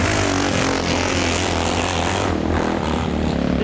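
Motorcycles roar up the steep Red Marley Hill Climb, a loud, continuous, droning engine sound that stays strong for the whole few seconds with no talking.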